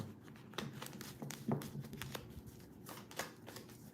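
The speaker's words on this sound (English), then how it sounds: "Make sure I shuffle these up really good." Tarot cards being shuffled by hand during a live reading, a soft, uneven run of papery riffles and slides with a few sharper flicks, fairly quiet and close, with no talk over it.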